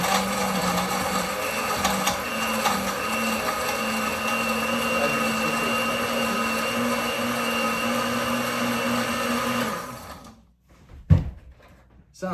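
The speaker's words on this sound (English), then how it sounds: "we're gonna blend this for just a couple of seconds" A blender crushing ice for a smoothie runs steadily at full power for about ten seconds with a grinding whir, then winds down and stops, followed by a short clunk.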